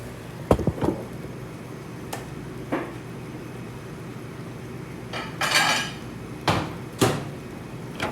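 Dishes and cutlery clatter in a series of sharp clinks and knocks as shrimp is plated, with a brief scraping rustle in the middle, over a low steady background hum.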